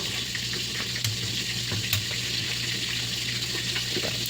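Bangus fish frying in oil, a steady continuous sizzle with soft crackles and occasional pops, fairly close and even throughout, with faint kitchen clatter and no talking.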